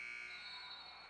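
End-of-quarter buzzer at a varsity girls' basketball game, Harvest Christian against Hiawatha, holding a sustained steady electronic tone over gym crowd noise for over a second, fairly faint and distant.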